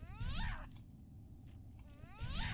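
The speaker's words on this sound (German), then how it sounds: "Eine kleine Katze. Hat sich gerade auf den Stuhl neben mich gesetzt." A small cat meows indoors, two drawn-out rising and falling calls near the mic with a quiet pause between them.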